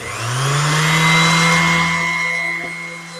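An old bolt is sanded with 400 grit paper against a spinning tool, giving a steady, close whirring hum that swells and then slowly fades.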